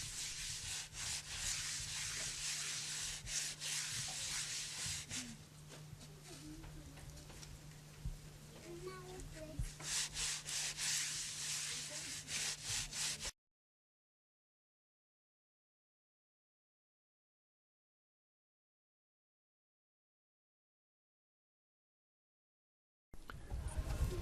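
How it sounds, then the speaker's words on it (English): A string of baobab seeds rubs over a clay jar's exterior to burnish it, making a steady, soft scraping rub for about thirteen seconds before a long silence and a short return at the end. "Mrs. Kafando is smoothing the exterior of the jar with wet clay and burnishing it with a string of"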